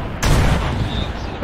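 Artillery fire in the video game Arma 3 during a Vietnam-era scenario, a sudden loud heavy boom followed by a sustained rumbling roll that stays strong to the end.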